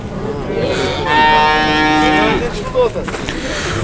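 A single loud, drawn-out moo from a young bull close by at a livestock bazaar in Jalal-Abad, over outdoor background noise with brief voices around it.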